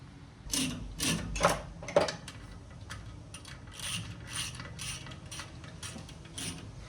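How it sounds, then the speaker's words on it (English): A 24-karat gold-plated Icon ratchet turns bolts on a Nissan D21 Hardbody during a rear brake swap. Bursts of ratcheting clicks come close and fairly loud, in uneven spurts with short pauses between strokes. "I'm gonna use my bro's new Icon 24 karat gold plated ratchet we got here."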